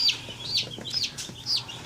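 A young cockerel chick held in the hand peeps in quick, shrill, high-pitched bursts, several in a row at close range with no other sound competing.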